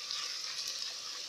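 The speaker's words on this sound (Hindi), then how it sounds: "यहाँ पे प्याज हमारी ब्राउन हो रही है।" Onions browning in hot oil during the cooking of a paya dish, a soft, steady hissing sizzle that stays close and even, with no talking over it.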